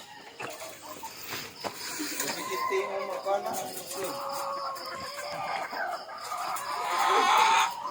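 Chickens cluck repeatedly at close range on a farm in Negros Occidental, a steady busy stream of hen calls with a rooster-like crow swelling near the end, while people talk intermittently over the flock.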